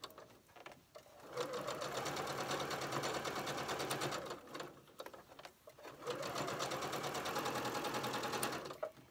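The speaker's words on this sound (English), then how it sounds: "So the entire piece of muslin will be stay stitched." A sewing machine stay stitching a crumb quilt border onto muslin runs in two steady, close bursts of several seconds each, with a brief pause between and a quieter start.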